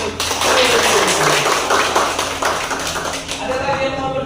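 A group applauds, producing a steady wash of many hands clapping together, loud and continuous, then tapering slightly near the end, with voices mixed in.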